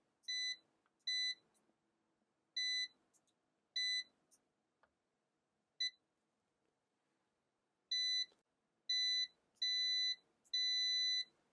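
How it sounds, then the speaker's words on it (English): A Kaiweets KM601s digital multimeter in continuity mode gives sharp, high electronic beeps: short bursts in irregular clusters with pauses between them, clean and close, with no talking. "This should beep when I touch these."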